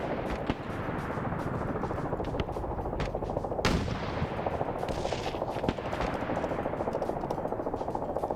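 Heavy sustained gunfire in a military video game rattles from across a bridge, dense machine-gun bursts and single shots over a constant roaring background, with one louder nearby blast partway through.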